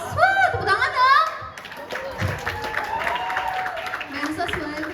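An audience claps at a school student council event, a steady patter of hands rising after an opening burst of voices, with children's chatter continuing underneath.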